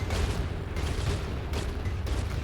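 Booming, crackling explosions like fireworks in the colony game Oxygen Not Included, during a meltdown, a dense continuous barrage with repeated sharper bursts over a steady low rumble.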